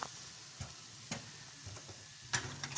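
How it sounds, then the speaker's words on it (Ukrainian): Vegetables for a zazharka sauté fry in a pan for a Ukrainian village-style soup, giving a steady sizzle with a few louder scraping stirs scattered through it. "І ми будемо зараз робити зажарку."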